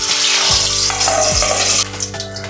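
Tengra fish frying in hot oil in a kadai, a loud, steady crackling sizzle that holds throughout, with a couple of brief low bumps as pieces shift in the pan.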